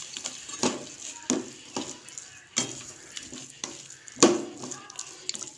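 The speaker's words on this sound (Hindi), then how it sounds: "इसको हमें अच्छे से मिक्स कर लेना है" Creamy vermicelli (seviyan) stirred in a pan: a series of quiet scraping and clinking spoon strokes against the pan, irregularly spaced over a soft background hiss, fairly close.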